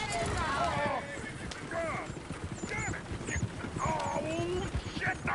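Horses in the video game Red Dead Redemption 2 whinny and neigh repeatedly, with hooves clip-clopping beneath and a voice speaking over them.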